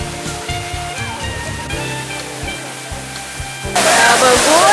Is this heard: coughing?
no